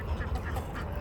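Farm ducks kept alongside geese and chickens give a quick burst of close, nasal quacking, several short calls crowded into about a second.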